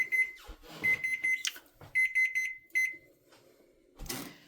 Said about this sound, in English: I'll put the timer on for an hour